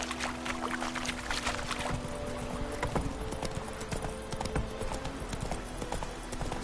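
The horse Roach trots in The Witcher 3: Wild Hunt, hooves clip-clopping in a steady, close rhythm over ground, with a faint tonal hum and outdoor ambience underneath.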